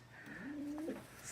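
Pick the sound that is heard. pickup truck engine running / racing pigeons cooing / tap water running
racing pigeons cooing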